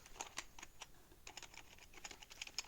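Quiet, irregular clicking of keys on a computer keyboard, short bursts of typing with brief pauses, close by and fairly soft.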